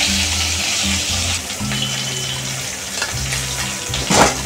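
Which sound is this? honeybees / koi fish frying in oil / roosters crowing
koi fish frying in oil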